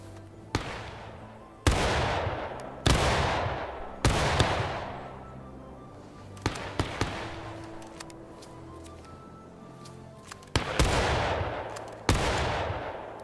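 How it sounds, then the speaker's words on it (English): Musket volleys from soldiers in War of Rights, a Civil War battle game: about seven loud, sharp reports at irregular intervals, each trailing a long echoing decay, with scattered fainter shots between them. "We're gonna see as these boys fire."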